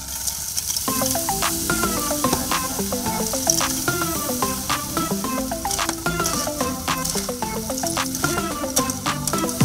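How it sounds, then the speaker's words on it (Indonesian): Rock clams stir-fry in a hot pan, a dense steady sizzle broken by frequent sharp clicks and scrapes of shells being tossed and stirred, close and loud throughout with no talking. "Setelah dipanaskan, masukkan kerang dan aduk sampai merata."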